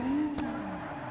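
Car tires squealing as a car drifts on a karting track, a sustained tonal screech with engine noise under it, close and loud through a brief moment.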